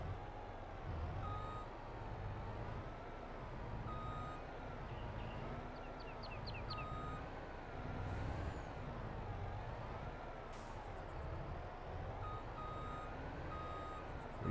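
Faint, evenly spaced reversing beeps from a truck in Farming Simulator 22 repeat steadily under a low engine hum, with a soft hiss of air brakes partway through.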